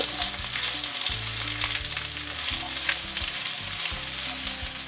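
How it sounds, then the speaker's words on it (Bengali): Potato and pointed gourd pieces fry together over a high flame, giving a loud, continuous close-up sizzle with soft stirring, while a low tonal hum runs underneath. "এবারে আলু আর পটলগুলোকে একসাথে হাই ফ্লেমে মিনিট 3 সময় ধরে ভেজে নেব।"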